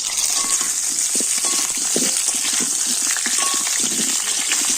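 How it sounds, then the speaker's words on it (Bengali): Potatoes frying in hot oil in a home kitchen, a steady close sizzle with continuous crackling hiss and occasional small pops throughout. "তার জন্য প্রথমে আমি আলু ভেজে নেব।"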